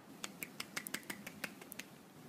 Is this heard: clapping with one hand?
yes